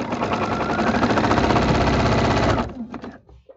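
A sewing machine with a walking foot stitches binding onto a quilt, running loud and close in a fast, steady mechanical rattle, then stopping abruptly and leaving a few faint clicks and handling sounds.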